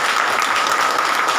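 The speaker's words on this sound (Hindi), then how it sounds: "और श्रीवास्तव परिवार के लिए भी आप लोग तालियां बजाइए।" An audience gives a family a round of clapping at an honoring ceremony, dense even applause sustained at a steady level for the whole brief moment.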